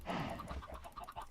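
Chickens clucking in the farming video game Stone Hog, a short run of soft, repeated clucks close by, with no talking.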